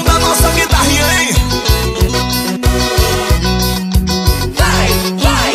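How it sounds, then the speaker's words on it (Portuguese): An electric guitar plays in a Brazilian pop track, riding over a heavy, steady pulsing beat with dense backing instrumentation, loud and continuous throughout. "E esse é o som da nossa guitarrinha"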